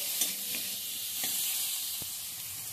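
Homemade red chilli powder fries in oil in a pan, a steady soft hiss and sizzle with a few faint clicks of stirring, close and unbroken with no talking.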